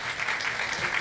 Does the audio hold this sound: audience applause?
yes